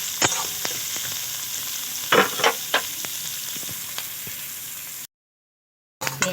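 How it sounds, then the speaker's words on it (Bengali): Chopped onion, nuts and carrot fry in a pan with a steady close sizzle, broken by a few louder scraping stirs, then a brief silent gap before the frying returns. "আর দিয়ে দেব পেঁয়াজ কুচি, বাদাম গাজর আর পেঁয়াজ খুব ভালো করে ভেজে নেব।"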